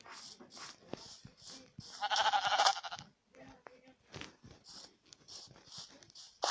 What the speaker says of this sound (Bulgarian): Намерих овца!